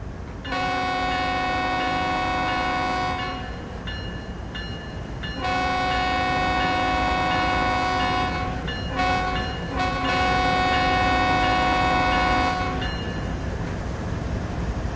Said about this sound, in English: We'll just watch the train roll by